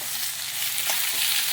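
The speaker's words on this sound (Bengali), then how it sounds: "মাছের মাথাটা খুব ভালো করে ভেজে নিতে হবে" A fish head fries in a pan with a dense, continuous sizzle and hiss, loud and close, with faint stirring movement and no talk.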